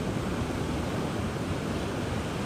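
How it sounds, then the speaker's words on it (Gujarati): Rough sea waves break under heavy rain in a steady, dense roar that fills the whole short stretch, with no pauses and no voices. "આવી રીતના ભાઈ મોજા ભાંગે છે"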